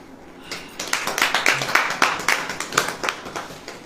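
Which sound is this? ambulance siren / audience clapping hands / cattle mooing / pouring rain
audience clapping hands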